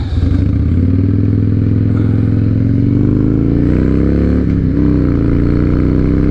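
A 2007 Harley Davidson Night Train's engine revs loud and close, a deep throbbing V-twin roar climbing steadily in pitch at higher RPM, with a brief dip and recovery near the end.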